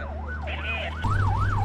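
An ambulance siren in Bangkok, rushing to an accident scene, wails in rapid rising and falling sweeps over a low engine rumble. It is loud and close, and its pitch shifts partway through.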